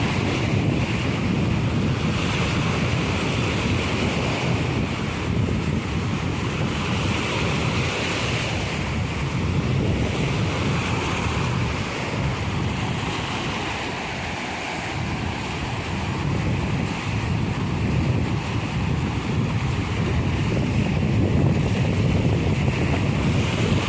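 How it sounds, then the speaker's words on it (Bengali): Small sea waves break steadily on the shore, a continuous close wash of surf with wind buffeting the microphone throughout, and no voices. "এখন ঢেউটা অনেকটা ছোট ছোট হয়ে গেছে"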